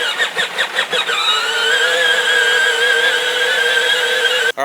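A Power Wheels ride-on toy car with an upgraded battery whirs into motion after a few stuttering pulses, settling into a steady high-pitched electric motor whine that runs evenly until a brief dropout at the end.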